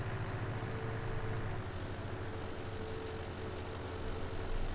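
A tractor engine runs steadily in a farming game, a low, constant idling rumble with a faint hum, close and unbroken, with no voices.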